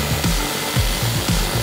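Several rough back-and-forth sawing strokes rasp through layered cardboard in a quick uneven rhythm, close and fairly loud, with no talking.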